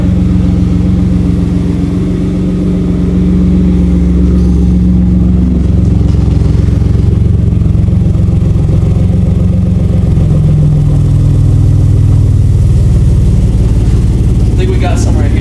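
A car idles with a new aftermarket exhaust giving a deeper rumble, the low engine drone continuous and fairly loud with mild swells in pitch, close by, with voices talking over it.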